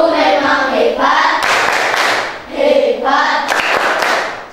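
Elementary classroom of children giving a rhythmic group clap in unison, sharp bursts of several claps mixed with the kids' chanting voices, close and loud.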